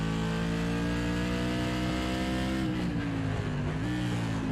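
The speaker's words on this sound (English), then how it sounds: "Listen to that engine." A modified race car engine at Martinsville Speedway in iRacing, droning loud and continuous with strong harmonic tones that dip and rise again as it downshifts and the revs shift.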